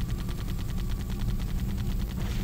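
Rapid machine-gun fire from a flying vehicle in a Halo CE mod game, a steady stream of quick, evenly spaced shots over a low rumble that holds loud and continuous throughout.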